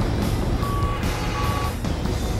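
Forklift reversing alarm in the Sega Dreamcast game Shenmue: two steady electronic beeps sound loud and close, each lasting about half a second, over a constant low vehicle rumble and background noise.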